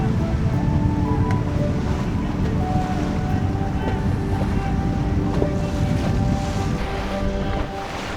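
Sailboats race across open water, including Sonars and J30s, with steady wind and wave noise, rushing water, and faint voices mixed into the constant roar.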